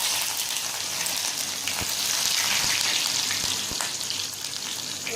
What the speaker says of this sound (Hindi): अब कर रहे हैं हम इसके लिए तड़का लगा रहे हैं। इसमें डालें हमने थोड़े से प्याज,